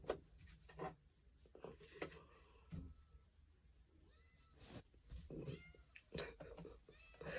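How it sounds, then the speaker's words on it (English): A house cat meowing to be let into a room, a string of short, plaintive meows scattered across several seconds, fairly close, with faint rubbing and shuffling noises in between. "That cat wants to come in here, and I don't want it in here."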